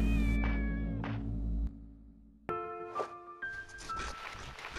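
A cat in the video game Shenmue meows several times, clear tonal cries with pauses between them, close and fairly loud over a low ambient hum.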